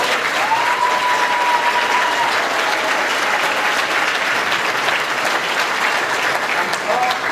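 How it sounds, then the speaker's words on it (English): Sustained audience applause fills a theatre at a musical comedy stage show, dense and steady clapping throughout with a brief voice rising over it near the start. "Big round of applause for them."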